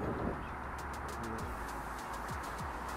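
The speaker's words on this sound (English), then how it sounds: "That bird is not happy with me being there." A pigeon-like bird coos and calls a few times outdoors at a glider flying field, faint and distant over a steady wind and motor hum.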